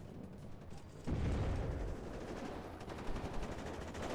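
Gunfire and explosions in the WARNO real-time strategy game: a sudden heavy boom opens into rumbling battle noise with scattered bursts, moderately loud and continuous.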